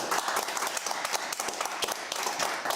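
Studio audience applauding a guest's arrival on a British television debate show, dense steady clapping filling the whole moment without speech.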